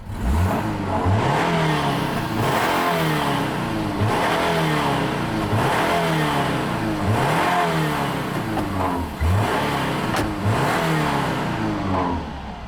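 A 2008 Subaru Impreza wagon engine running smoothly and being revved repeatedly, steady close idle broken by rhythmic rising and falling revs, loud with no talking.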